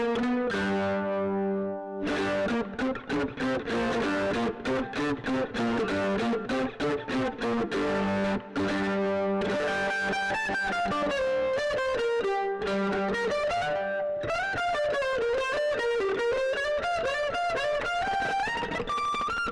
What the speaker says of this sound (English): a quick example with my overdrive and distortion